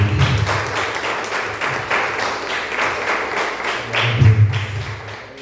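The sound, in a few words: congregation applauding in church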